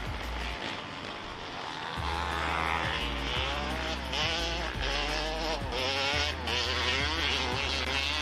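Race motorbikes at a Kalgoorlie desert race pull out of a left-hand hairpin and head into the desert, engines revving and rising in pitch as they accelerate, a steady motor drone throughout.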